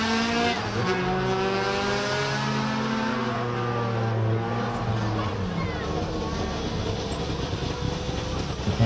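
A Peugeot 207 S2000 rally car with a naturally aspirated 2-litre engine revs hard at a rally stage, its high-pitched engine note climbing and falling loudly and continuously, with tire noise mixed in.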